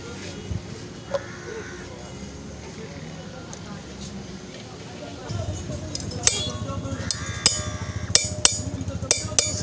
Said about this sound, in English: So now he's trying to loosen all of this so that the bolts can come out.